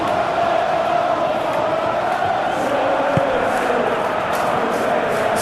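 A stadium crowd in a simulated Premier League football match between Chelsea and Manchester City gives a steady, dense roar of cheering that holds evenly throughout, with a brief thump near the middle.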